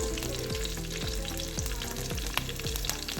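Garlic, ginger and small shallots sauté in a hot pan for a tuna fish curry, a steady loud sizzle with repeated stirring scrapes at a regular rhythm, close up and with no talking.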